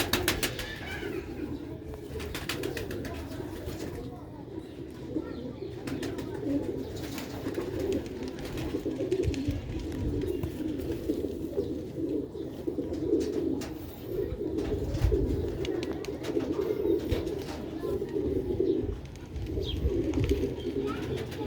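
Pigeons cooing in a loft or coop, a continuous low throaty cooing from several birds close by, with some speech and background noise underneath.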